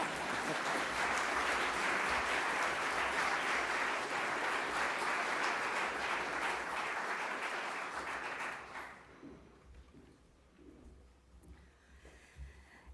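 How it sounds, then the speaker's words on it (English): Audience applause at an international affairs conference opening, a dense sustained round of clapping for about eight seconds that then drops away abruptly, leaving a quiet room with a few faint sounds. "you can give us a clap if you want to, whānau"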